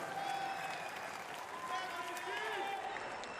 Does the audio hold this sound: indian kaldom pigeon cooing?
no